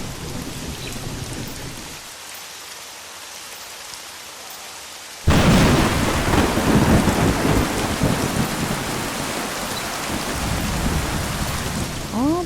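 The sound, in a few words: thunderstorm with rain in Whirlight video game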